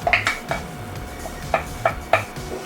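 A utensil scrapes and clinks against a pot while grated cheese is stirred into a pie filling, several sharp metallic taps in an uneven rhythm over soft scraping, close by.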